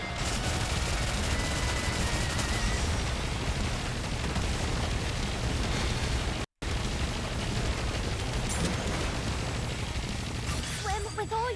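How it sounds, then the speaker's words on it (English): Heavy, continuous video game battle gunfire, a dense roar of shots and blasts sustained throughout with one momentary cut, while voices speak over the fighting. "Commence firing."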